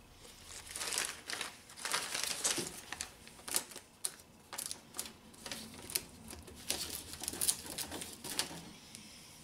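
All-weather tape handled while sealing a Honda Accord door shield: close, irregular crinkling and tearing rustles in short bursts, with brief pauses between.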